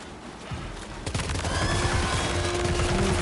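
Assault rifle fire in Death Stranding 2 during a fight against a giant BT, rapid bursts of automatic shots beginning after a second and running densely to the end, loud and close.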